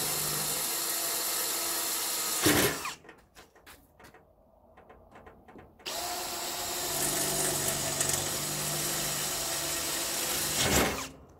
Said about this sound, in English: We'll drill this pilot hole here first.